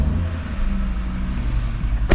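An Audi RSQ3 Sportback's five-cylinder engine idles just after starting, a steady, close, low thrumming drone with a brief bright click near the end.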